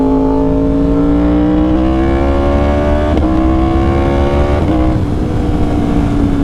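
A 2020 Yamaha R1 motorcycle engine holds a loud, steady high-rpm drone while riding, its pitch climbing gradually, with brief shifts around the third and fifth seconds and constant rumble beneath.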